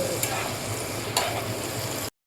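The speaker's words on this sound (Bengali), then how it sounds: "এই দেখো পেঁয়াজটাকে একদম বেরেস্তার মতন করে ভেজে নেব, মানে মুচমুচে করে একদম ভালো করে ভাজা ভাজা করব।" Onions fry in hot oil for a mutton curry, a continuous close sizzle with two sharp stirring scrapes of a spoon in the pan before it cuts off abruptly.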